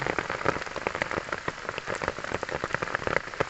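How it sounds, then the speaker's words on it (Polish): Heavy rain pours down during a downpour at an amethyst collecting site near Szklarska Poręba, a dense, loud patter of drops drumming on nearby surfaces, steady and unbroken. "niech przestanie padać. Albo chociaż trochę zelży."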